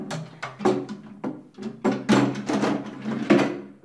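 Household drawers are opened and closed repeatedly during tidying, giving a run of close, irregular wooden thunks, slides and knocks over about four seconds.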